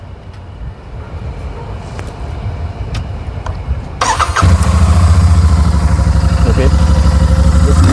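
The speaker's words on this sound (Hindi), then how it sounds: "यहाँ पे जो इंजन में एक साउंड आ रहा है, cut cut cut cut cut cut करके" A Royal Enfield Super Meteor 650 motorcycle engine starts midway and settles into a loud, close, steady idle with a rhythmic ticking, after a quieter stretch of background noise; a brief spoken word comes before it starts.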